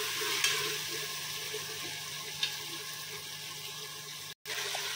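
Ginger, garlic and tomatoes sautéing in oil give a steady, moderate sizzle with occasional soft stirring clicks and one brief pause near the end, with no voices.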